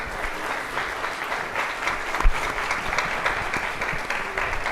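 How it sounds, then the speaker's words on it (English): A debate audience gives sustained, even applause at moderate distance, dense clapping continuing throughout with a brief louder burst near the middle. "Everybody give him a big round of applause."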